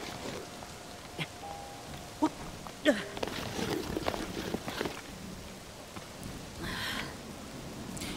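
Rain falls steadily in the open world of the video game Zelda: Tears of the Kingdom, a soft continuous hiss with a few sharper in-game clicks and taps over it, and no talking.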